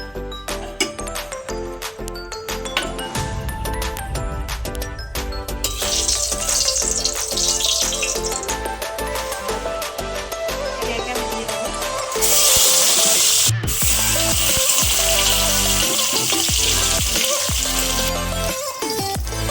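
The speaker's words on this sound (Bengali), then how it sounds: "এবার কড়া গরম করে মাছগুলোকে একে একে ভেজে নেব" Catla fish pieces frying one by one in hot oil in a kadai, giving a loud, steady hiss and crackle that swells toward the end, with occasional metallic clinks and music playing underneath.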